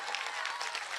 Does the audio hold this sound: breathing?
no